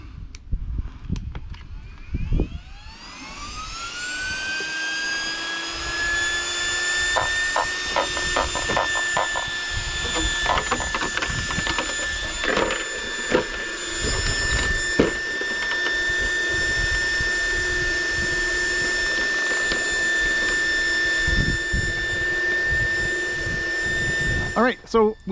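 A Team Corally Kronos XTR RC car's electric motor spools up from a low note into a high, steady whine that holds for about twenty seconds, with some clicks and knocks along the way.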